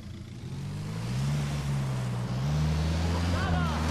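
A car driving in the video game Ghost Recon Wildlands, with a steady engine drone that rises in pitch as it accelerates, heard with wind noise throughout.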